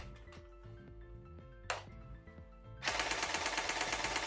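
Academy SCAR airsoft electric gun with a blowback upgrade fires in bursts: rapid mechanical clatter of the gearbox and bolt, a sharp snap near the middle, then a dense, loud full-auto rattle taking over at the end.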